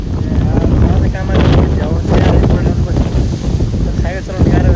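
Strong, gusty wind roars across an outdoor microphone in a loud, continuous broadband rush that swells and buffets throughout.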